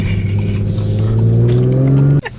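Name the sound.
2022 Audi S5 Sportback accelerating with launch control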